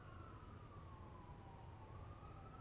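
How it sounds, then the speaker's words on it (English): Emergency vehicle sirens wail outside, a faint, distant rising and falling tone held steadily over a low background rumble. "Sirens. Listen to the sirens."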